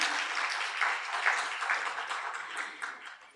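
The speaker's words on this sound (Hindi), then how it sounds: "जोर से थोड़ा ताली बजाइए आप सभी।" Moderate applause from a seated audience at a Brahma Kumaris class, soft and continuous before fading out, ending with a sudden close bump.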